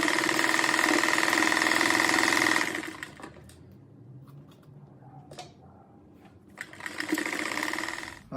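Sewing machine running steadily as it stitches fabric strips with a floral print for a patchwork rag rug, loud and close for the first few seconds, a quiet pause with faint handling, then the motor starts again near the end.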